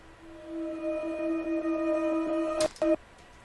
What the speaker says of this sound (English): it's a vocal chop. It sounds like this.